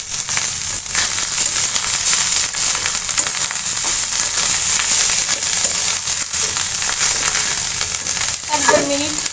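Fish roe fries in a pan with coriander leaves, giving a steady loud sizzle with constant crackle. The stirring and scraping continue throughout without a break.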